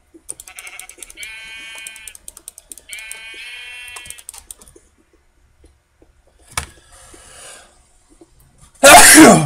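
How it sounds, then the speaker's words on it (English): Minecraft sheep bleat in two clear wavering calls, followed a few seconds later by a loud, abrupt human sneeze right at the end. "I just started sneezing."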